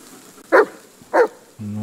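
A dog in the Blair Witch (2019) game gives two short, distinct barks about half a second apart, fairly loud and close, with no voice over them.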